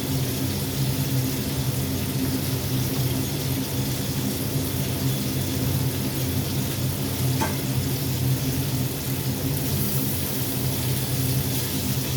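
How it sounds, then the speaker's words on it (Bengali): Pieces of rui fish fry in hot oil, giving a steady, even sizzle that runs unbroken and fairly loud, with no talking. "মাছটা একটু ভাজা হবে, লাল করে ভাজা হবে।"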